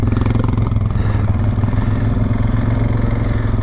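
Suzuki King Quad 750 ATV engine drones loud and close while riding on a mountain trail in Idaho, a continuous, steady rumble with a slight rhythmic pulse and no speech.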